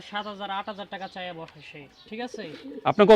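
Pigeons on a pigeon farm that keeps fancy and local gola breeds coo in short, repeated throaty phrases close by, mixed with people talking.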